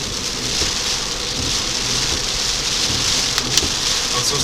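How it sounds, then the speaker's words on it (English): Steady heavy rain from Mediterranean hurricane Ianos pours down on Kefalonia with a constant dense hiss, with a few faint clicks and gusts over the downpour. "today the weather has gone completely stormy here"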